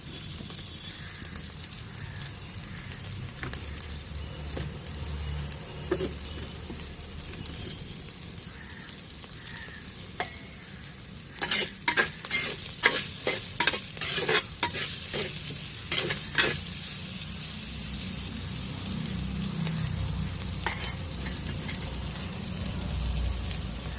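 Ingredients for a Kottayam-style tuna fish curry sizzle steadily in a pan, with a cluster of close scraping stirs of a spoon midway through and constant soft frying hiss underneath.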